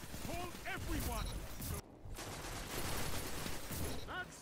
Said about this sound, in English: I shot him through the wall, probably.